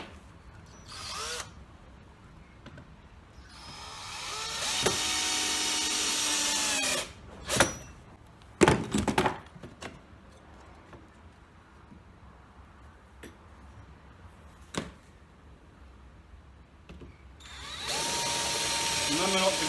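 A power drill drives 25mm screws into a wooden block, with several loud whirring bursts of a few seconds each between quieter handling sounds and pauses. The drilling is close and prominent.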